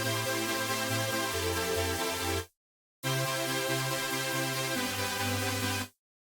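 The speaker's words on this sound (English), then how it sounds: "it's a big supersaw with a lot of voices, and it will definitely make the chords sound big" Lead Beautiful, a big supersaw synth lead preset with many voices for future bass chords, plays a wide, bright chord pattern in two loud passes separated by a short gap, with no talking.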